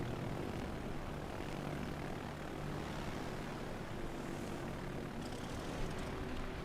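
Steady propeller-aircraft engine drone from a carrier-launched bomber in the naval video game World of Warships: Legends, a continuous even hum with faint battle noise, no talk.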